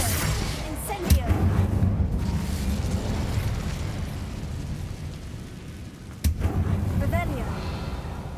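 Incendio fire spell cast in a Harry Potter wizarding video game, heard as a sustained roaring whoosh of flame with a sharp burst near the start and another near the end, layered over a steady low rumble.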